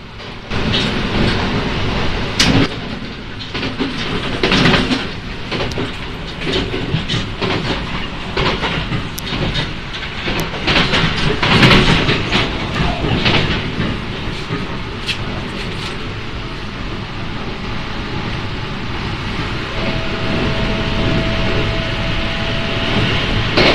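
A JR E657 series Hitachi limited express train passes nonstop through Natori station on the Joban line, a loud, steady rush of rail noise with clattering wheel beats that holds for over twenty seconds without fading.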